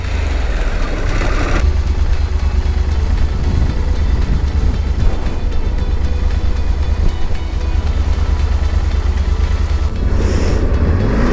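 Harley Davidson Pan America adventure motorcycle in off-road mode, its engine droning loud and close with heavy low rumble and wind buffeting throughout, the tone rising as it accelerates toward the end.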